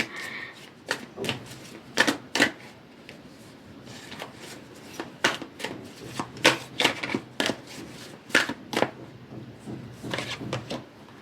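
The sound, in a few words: tarot cards shuffling and falling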